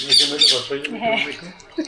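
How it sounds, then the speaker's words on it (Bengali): A pet bird squawks twice in quick, sharp bursts, close by. A brief voice sounds between calls and another short squawk follows at the end. "বলে তো পাখি ডাকে তো।"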